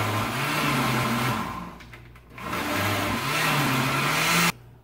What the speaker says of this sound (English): I gotta get a better blender.